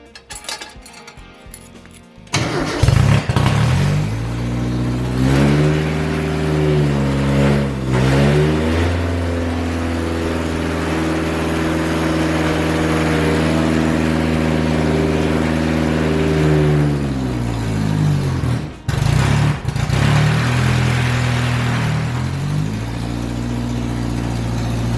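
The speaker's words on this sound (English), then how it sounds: "We can actually run the car, which is so exciting" A 1978 MG Midget engine fires up after a short pause and keeps running close by, settling into a steady idle with several gentle rises and dips in revs and one brief stumble.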